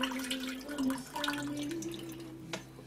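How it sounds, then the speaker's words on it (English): Liquid herbal soap ingredients pouring into a stainless steel pot, a faint trickle with light dripping splashes at low volume. "pour in the ingredients."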